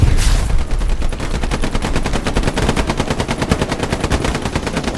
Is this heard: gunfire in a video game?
yes